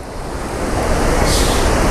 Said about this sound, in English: So this is your Chitrakoot waterfall.